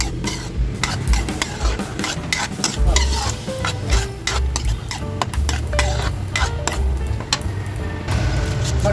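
Spaghetti sauce being stirred in a pan, a loud continuous clatter of the spoon scraping and knocking the pan over a soft sizzle, close and without talk.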